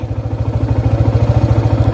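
Motorcycle engine idling close by, a loud, rapid, regular thumping pulse that holds steady throughout with no talking over it.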